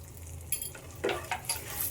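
Red chilli powder and turmeric are stirred in hot oil for a raw banana bhaji, with a low sizzle, a few scraping knocks of the spoon against the pan, and no talking.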